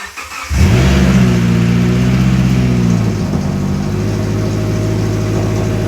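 A Subaru FB25 engine swapped into a 2013 Forester and run with no exhaust fitted starts up and revs hard, a loud, raw, truck-like roar that rises and then settles into a steady high idle.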